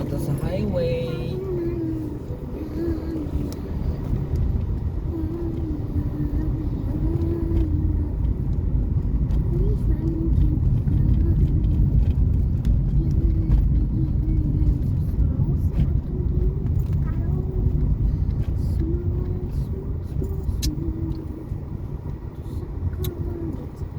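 A family car cruises along a highway on a Sunday outing, with a steady low road and engine rumble throughout, rising slightly in the middle, while people talk inside the cabin.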